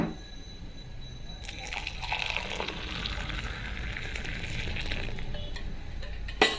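Coffee being stirred in a glass, a close, steady swishing and liquid rustle that runs for several seconds and ends with a sharp tap.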